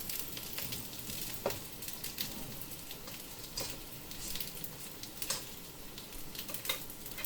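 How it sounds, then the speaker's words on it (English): Handmade vegetarian spring rolls sear gently in a little oil in a pan, producing a soft, faint sizzle dotted with irregular crackling pops, with no voices. "And we'll gently sear it all over."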